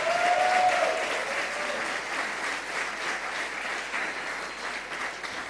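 A church congregation claps together in sustained, even applause, with a brief whistle at the start, then a steady wash of hands that carries on without letting up.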